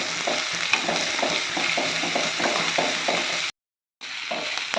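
Chopped onions sauté in oil in a pan over a low flame, giving a steady close sizzle with rhythmic stirring scrapes, then a brief dead silence before the frying resumes.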